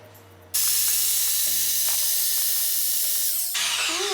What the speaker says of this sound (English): I'm going to be tufting the middle section of the rug using the just 1 black thread